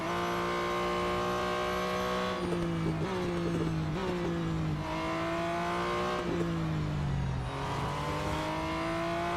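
A racing car engine in the video game Real Racing 3 drones loudly and continuously, pitch climbing then dropping with each gear shift in a repeating pattern, steady and close throughout without speech.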